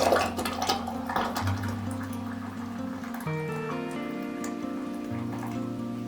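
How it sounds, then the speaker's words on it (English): Red clover jelly is poured from a full pan through a funnel into jars, a steady liquid pour with splashy dribbles. A sustained tonal hum runs beneath it, with no talk. "We're going to fill our jars with our jelly."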